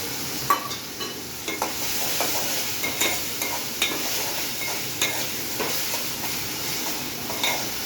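Capsicum and onions sauté in a pan for paneer curry, with a constant sizzle and scattered knocks of a stirring spoon on the pan, close and fairly loud.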